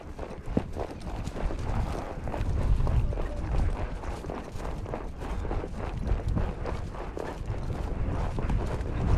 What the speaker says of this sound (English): So it's a nice trot for these horses.